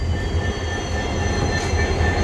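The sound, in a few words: diesel locomotive train running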